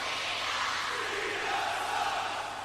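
A large wrestling arena crowd roars and chants in a dense, sustained wash of voices, loud and continuous throughout.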